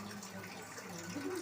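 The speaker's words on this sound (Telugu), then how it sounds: "మరి ట్యాప్ వాటర్" Tap water runs in a steady, soft stream, a faint continuous splashing with no voices over it.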